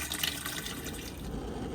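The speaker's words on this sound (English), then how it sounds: "Here we've got the hot water running" Hot water running from a campervan tap into a sink, a steady close splashing rush of liquid with no talking.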